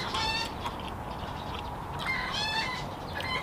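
A chicken clucks in a rural Thai home setting during cooking, two short bursts of clucking heard at moderate distance over steady background noise.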